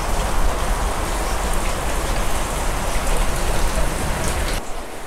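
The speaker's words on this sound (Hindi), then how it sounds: "बारिश कंटिन्यू पड़ी रही है बारिश अभी तक रुकी नहीं है" Steady heavy rain pours down without pause, a dense hiss of drops on a house roof and surfaces that fades slightly in the final moment.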